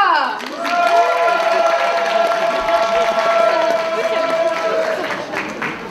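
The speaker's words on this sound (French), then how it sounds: "On l'applaudit encore une fois" A crowd at the DeTo 2017 Saturday cosplay contest claps for a cosplayer, the applause running steadily for several seconds beneath a loud voice or music and fading slightly near the end.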